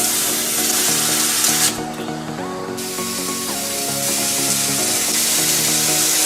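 A hot ball set down on ice gives a steady, loud spraying hiss that runs the full length with slight shifts in tone and a brief dip partway through, with no talking.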